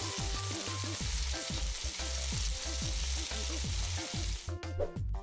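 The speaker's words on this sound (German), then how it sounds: "Brate die Burgerbratlinge." Burger patties frying in a pan give a steady, bright sizzling hiss throughout, heard beneath a rhythmic background music track; the sizzle thins out near the end.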